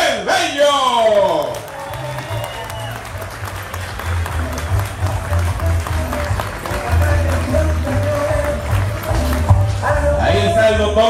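A festival crowd at the Nagua patronales applauds in honor of Doctor Abel Bello, a steady wash of clapping and cheering that lasts throughout over music and voices.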